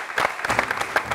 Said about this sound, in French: Bravo, on applaudit pour lui.